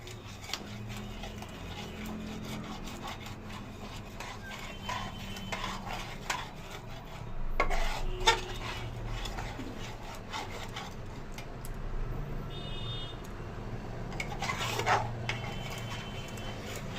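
Onion paste sautéing in a pan for loitta fish curry, a quiet continuous rubbing and scraping of a spatula with a low sizzle underneath, close and fairly faint, no voices.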